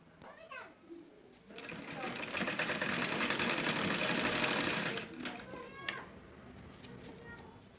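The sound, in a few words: sewing machine stitching blouse sleeve at shoulder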